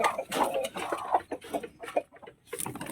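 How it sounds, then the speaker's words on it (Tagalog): Rhode Island Red and white native chickens cluck in short, close bursts with brief pauses, fairly quiet and with no talk over them. "Ito yung Rhode Island Red guys, saka yung native chicken, yung kulay white."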